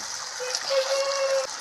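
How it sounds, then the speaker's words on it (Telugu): Water is poured into a cooking pot already holding turmeric, chili powder and salt for a raw mango curry, a short splashing gurgle with a faint ringing tone as the pot fills, and a voice briefly audible. "నీళ్ళు వేస్తున్నానండి"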